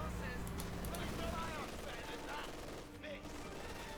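Gunfire and a mortar barrage in the strategy game Company of Heroes 2, with continuous rattling small-arms fire and dull impacts throughout, all at a moderate level.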